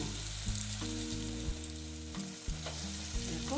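Pieces of katla fish fry in a pan with a loud, steady sizzle and occasional stirring scrapes, close by and without talk.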